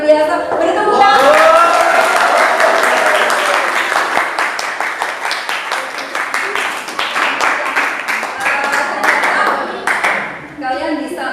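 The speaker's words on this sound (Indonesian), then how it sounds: "Beri tepuk tangan." Students in a vocational school classroom break into loud, sustained applause, a dense patter of many hands that carries on for several seconds before tapering off, with a voice speaking over the clapping.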